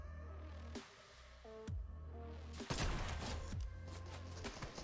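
Sniper rifle shots ring out in a Fortnite bot lobby match, with three or so loud, sharp cracks spaced a second or more apart over steady in-game tones and effects.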